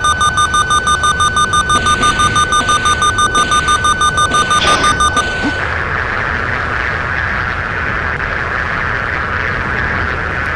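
Missile lock warning in an F-14A Tomcat flight game: a loud, rapid, steady electronic beeping alarm repeating for about five seconds, then cutting out and leaving a continuous hiss of cockpit and engine noise.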